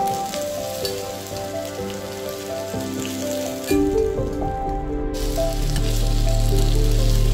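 Potatoes fry with curry leaves in a pan, a dense close crackling sizzle like rain on a surface, growing louder toward the end as stirring adds soft scraping, with no voices.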